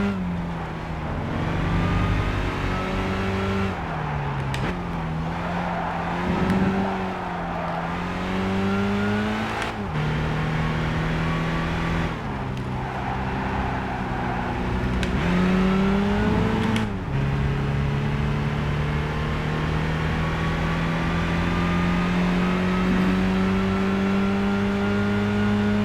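A race car engine in Gran Turismo 5 holds a steady loud drone, rising and dropping in pitch through repeated gear shifts and revs, with brief lifts off the throttle and continuous mechanical whine, no voices.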